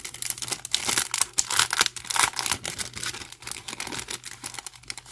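Plastic packaging around paper doilies is torn open and crinkled up close, a loud, dense run of crackling and rustling that carries on without a break and with no voice over it.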